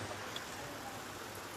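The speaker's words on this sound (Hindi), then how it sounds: "बिल्कुल बारिश हो गई है ज्यादा तेज" Monsoon rain falling on a Vaishno Devi pilgrimage trail while people shelter under a tree, heard as a steady, soft, even hiss with no distinct drops standing out.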